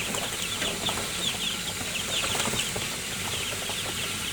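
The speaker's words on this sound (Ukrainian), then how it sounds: "Ось наші індичата. Зараз будуть трохи скакати" Turkey poults flutter and flap their wings in short bursts amid soft rustling and faint chirps, fairly quiet and close.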